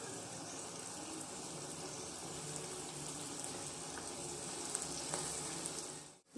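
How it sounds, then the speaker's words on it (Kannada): Fried paneer cubes tipped into a sizzling capsicum gravy in a pan, giving a steady, close frying hiss that runs unbroken and fairly even throughout, with no talking. "ಈಗ ಫ್ರೈ ಮಾಡಿ ಇಟ್ಕೊಂಡಿದ್ದಂಥ ಪನ್ನೀರ್ ಕ್ಯೂಬ್ಸ್ನ ಆ್ಯಡ್ ಮಾಡ್ತಾ ಇದ್ದೀನಿ."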